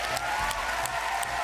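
An audience claps in a studio for a Hindi kids' TV show, brief steady applause at moderate level.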